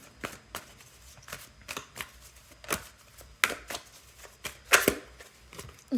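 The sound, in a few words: shuffling tarot cards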